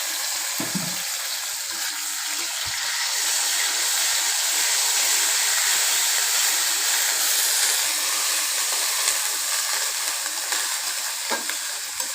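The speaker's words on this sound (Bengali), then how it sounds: "এখন আমি এতে দিয়ে দিচ্ছি কেটে রাখা টমেটো, আর সাথে দিচ্ছি পেঁয়াজ বাটা আর জিরে বাটা" Chopped tomato with onion paste and cumin paste frying in a hot pan, a steady bright sizzle with a few soft stirring knocks, close and continuous with no talking.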